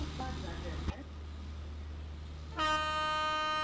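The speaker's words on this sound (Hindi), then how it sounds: "हॉर्न बजा दिया है भाई," A train horn on the 12931 Mumbai Central–Ahmedabad Double Decker Express in a Western Railway train simulator game blares loud and sustained, coming in after a man's speech and a short stretch of quiet.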